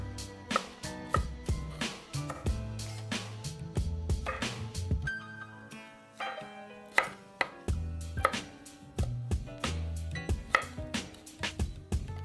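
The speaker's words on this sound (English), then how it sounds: "Cut that into little pieces." A knife chops thin broccolini stems into small pieces on a cutting board, a close run of quick, uneven thuds that pauses briefly midway and then resumes, with no voices.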